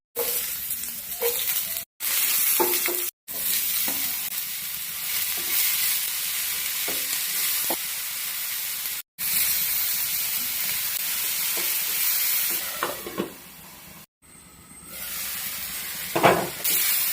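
Onion and tomato sauté in hot oil in a pan for a tomato chutney, giving a loud, steady sizzle with occasional stirring scrapes and a few brief breaks in the sound.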